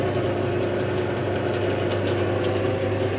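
A metal lathe turning steadily at 420 RPM in slow pulley gear while machining a splined shaft, a constant loud mechanical hum and whir with an even tonal whine and no pauses or talking.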